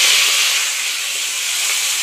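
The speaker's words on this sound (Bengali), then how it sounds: "তেলটা গরম হয়ে গেছে, মাছটা আমি কড়াইতে দিয়ে দিলাম।" Fish sizzling in hot mustard oil in a wok, a steady loud hiss of frying that holds evenly throughout, with no talking.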